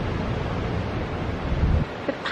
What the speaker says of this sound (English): The power on those waves.